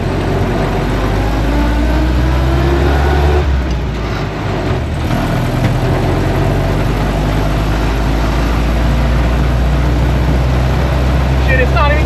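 An old Jeep flathead engine fitted with throttle body injection runs steadily, giving a loud continuous low rumble up close, with a person talking over it.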